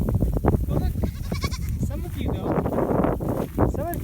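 Goats bleat repeatedly on a hay farm, their wavering calls close and loud, mixed with a person talking to the herd and general farmyard noise.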